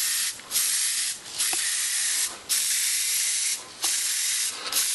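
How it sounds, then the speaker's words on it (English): Paint spray gun hissing in repeated bursts while basecoating Howling Griffons miniatures, each steady high airy blast lasting about a second, cut by short pauses, close and loud with no talk. "As you can see, I got my spray guns ready to go."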